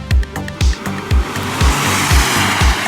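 A 2020 Ford Police Interceptor moves under power, its engine giving a loud, close, rhythmic throb that pulses about twice a second, while a broad rushing noise builds behind it as the car picks up speed.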